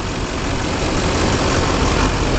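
A 2006 Chevrolet K2500 crew cab short-bed LT diesel 4WD pickup idles with a steady, even, loud, close diesel rumble, uninterrupted and with no talking.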